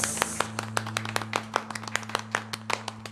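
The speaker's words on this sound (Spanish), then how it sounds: "¡Aplausos!" An audience at a live rooftop concert claps in a quick, uneven patter of sharp hand claps over a steady low hum from the sound system.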